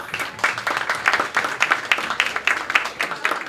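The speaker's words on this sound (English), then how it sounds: "Can everyone give yourselves a round of applause?" Audience applause at a 90+ birthday celebration luncheon, a steady crowd of hands clapping with distinct rhythmic peaks, fairly close and sustained throughout.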